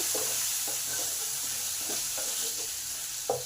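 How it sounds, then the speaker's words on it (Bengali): Potatoes frying with salt and turmeric hiss in a continuous sizzle, with soft scraping strokes of a spoon stirring them at an unhurried pace. "এবার নুন আর হলুদটা যাতে আলুতে ভালোভাবে লেগে যায় সেই জন্য একটু দু মিনিট নেড়ে দিলাম"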